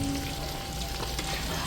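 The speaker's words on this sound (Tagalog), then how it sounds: "nagpiprito naman po kami ngayon ng karning baboy. Ito po ay pang sisig." Pieces of pork for sisig fry in hot oil, giving a steady, dense sizzle and crackle that fills the short clip without pause. The frying is loud and close, with no talking.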